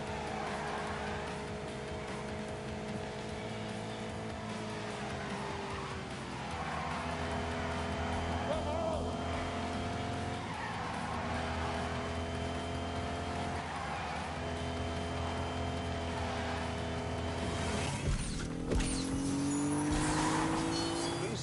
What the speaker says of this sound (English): V6 engine, 200 horsepower